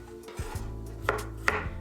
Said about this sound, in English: while it's boiling, I chopped my veggies. I have one big onion,